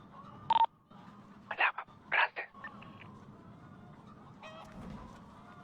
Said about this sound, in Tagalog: Ingay ng mga manok dito ba ya?